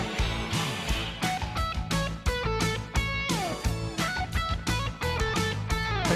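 An electric guitar plays a melody as a lead line over a full, dense band backing, with sliding and sustained notes amid steady drums, loud and continuous with no voices.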